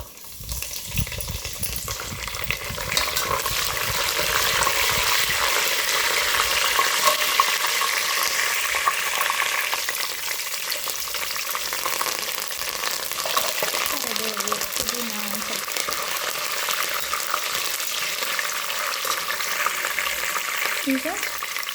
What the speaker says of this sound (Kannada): ಒಂದು ಸ್ವಲ್ಪ ಸ್ಟವ್ ಜೋರು ಮಾಡಿಕೊಂಡು ಫ್ರೈ ಆಗಬೇಕು.